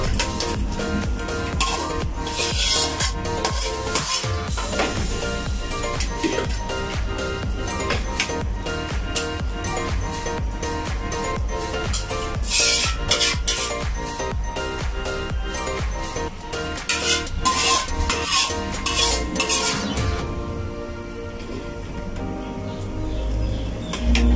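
Boiled jackfruit and kadyos beans for pork kadyos stew get stirred inside a pressure cooker, with continuous clattering and scraping of a utensil against the metal pot and wet shuffling, while birds chirp faintly in the background.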